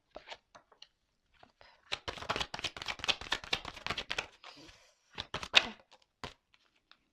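Playing cards being handled and shuffled make a dense run of papery flicks and riffles, then a shorter burst and a few scattered taps, close and fairly quiet.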